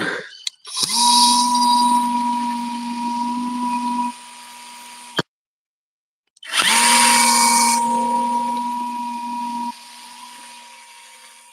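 A power drill whines loudly in a steady high-pitched burst, stops abruptly for a moment, then starts up again and runs on before winding down.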